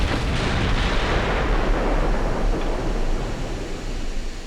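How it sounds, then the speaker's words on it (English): Naval gunfire from a German fleet at an enemy battleship in Ultimate Admiral: Dreadnoughts, a loud booming blast that rolls into a long, dense rumble, with sea-like wash underneath. "it looks like I'm shooting at one of his battleships"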